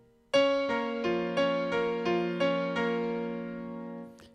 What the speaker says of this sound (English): traditional foot pedal technique is going to be something like this to change on every chord